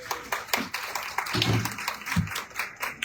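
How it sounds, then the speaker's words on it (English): Scattered hand clapping from a small crowd at an evening candidate forum hosted by a chamber of commerce, moderately close, with uneven claps and some low voices underneath. "Let's give the Chamber of Commerce a round of applause."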